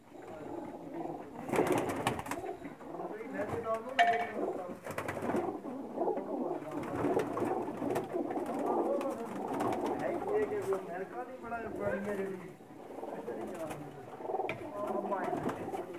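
Large female pigeons coo repeatedly at close range, with soft throaty calls and wing flutters overlapping throughout, while someone talks over the birds.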